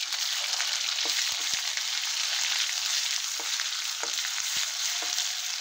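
A paste of ground onion, garlic, coconut and ginger fries in two spoons of oil in a hot wok, giving a steady, close sizzle with occasional soft stirring knocks.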